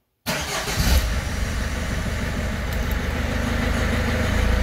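A car engine turns over and catches, the car parked in energy-saving mode during work on its COM2000 steering-column switch unit, then settles into a steady, close, rumbling idle with no talk.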